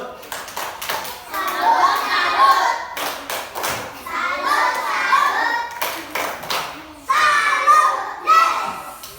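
A class of schoolchildren chants and claps in rhythm through the Tepuk Salut routine. Loud, quick bursts of clapping repeat several times, mixed with young voices calling out together.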